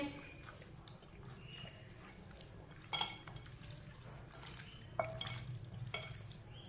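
Marinated chicken is stirred in a bowl, a soft, wet, squelching mix broken by occasional clinks of a utensil against the dish, all fairly quiet and close.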